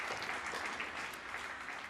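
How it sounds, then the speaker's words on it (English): Forum audience applauding a plenary panel at the NGI Forum 2023, a brief, even burst of many hands clapping in a conference hall, heard faintly and at a distance. "A warm round of applause once again for our plenary 2 panel."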